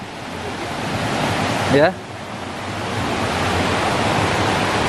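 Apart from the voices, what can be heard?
small river flowing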